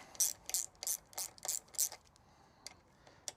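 A tool tightens bolts on newly fitted bicycle handlebars, giving six quick, crisp ratcheting bursts at an even rhythm, then a few fainter clicks, close up and without talking.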